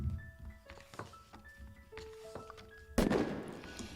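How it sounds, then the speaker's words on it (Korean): Gunshot sound effect for an 1865 theatre shooting of a president: a single sharp, loud bang bursts out near the end, following soft, sparse musical tones and light knocks. "총소리가 울려 퍼졌어요"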